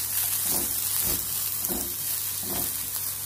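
Frozen peas sautéing in a pan produce a steady, soft sizzle with a few gentle rhythmic stirring scrapes, close by and fairly quiet, with no voices.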